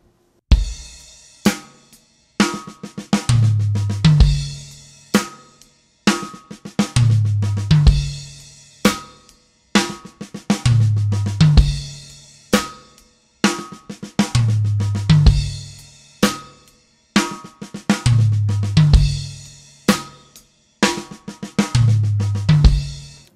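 A two-beat drum fill, one beat on each drum, repeats as a steady pattern of sharp drum and cymbal hits with rapid strokes between them, loud and close with no talking.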